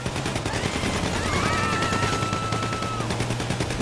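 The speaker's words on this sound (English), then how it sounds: "I'm shooting, boys." Gunfire from a GTA 5 Online bank heist, the Pacific Standard job, rattles steadily through the whole stretch, a dense continuous burst of shots under a constant low game hum, with no talking.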